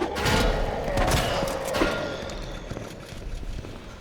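Repeated gunshots fired in the survival horror game Resident Evil 2, a dense, loud burst of shots with thumps and footsteps running continuously throughout.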